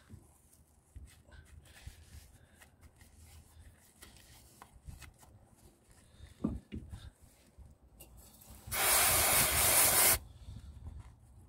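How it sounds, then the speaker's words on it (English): Brake cleaner sprays in a loud continuous hiss for about two seconds onto a front brake caliper of an Alfa Romeo 166 2.0 Twin Spark. Quieter workshop clatter and handling sounds come before it. "bit of brake clean around and about the place, get a rag"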